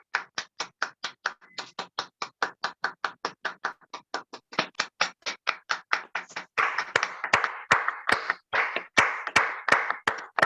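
Applause in a television studio as a journalist guest is welcomed. Steady, fairly sparse claps from a small group, close and clear, growing denser toward the end with no talk.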